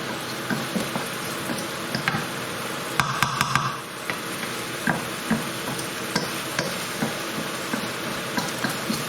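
Sliced peppers fry in oil in a pan over turned-up heat for a lamb and potato balti, giving a steady low sizzle with scattered soft knocks and stirring taps throughout; no one speaks.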